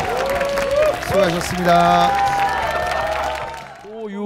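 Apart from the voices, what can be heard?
audience applause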